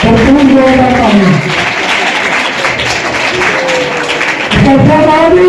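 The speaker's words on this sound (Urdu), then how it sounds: "اب سب کی زوردار تالیاں ہوں گے" Audience applause rings out at a Mother Mary crowning ceremony at St Mary's Parish, Gulshan Colony. Steady clapping from a crowd runs throughout, with a singing or speaking voice over it at the start and again at the end.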